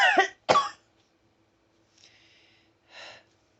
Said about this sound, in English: those are the coughs.